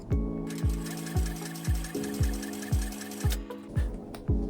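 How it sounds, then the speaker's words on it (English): A sewing machine top-stitches the back of a fabric bag. The motor runs in short, steady bursts of needle chatter, roughly every half second, with each burst starting on a low thump. It is close and loud, with no talking. "we're going to top stitch now, and the instructions say not to go around the corner"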